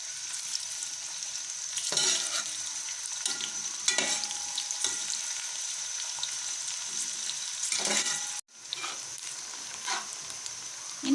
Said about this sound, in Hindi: इन प्याज़ों को हम हल्का सा सुनहरा कर लेंगे।